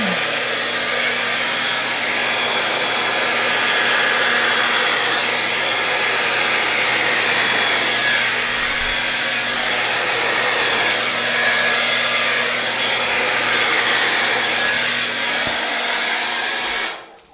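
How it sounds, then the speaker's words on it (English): A hair dryer blows wet paint steadily and loudly for the whole stretch, a constant whooshing roar that cuts off abruptly at the end. "I'm going to put my blow dryer down for a sec."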